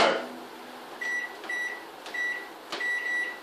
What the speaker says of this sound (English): Straight into the microwave.